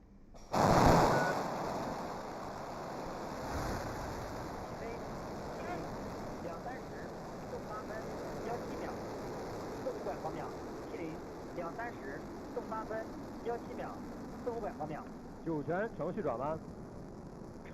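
The Shenzhou-15 rocket ignites and lifts off with a sudden loud burst. A sustained, distant roar and rumble follow, with commentary voices speaking over it.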